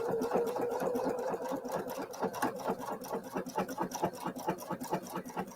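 A Pfaff sewing machine stitching a tapered corner, a fast steady mechanical clatter of needle strokes running continuously at close range with no talk.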